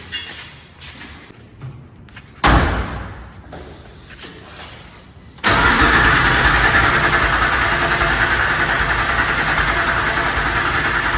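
A Ford Coyote twin turbo engine in an F100 truck cranks and fires after a few seconds of quiet shuffling, then settles into a loud, steady, close idle that fills the rest of the clip.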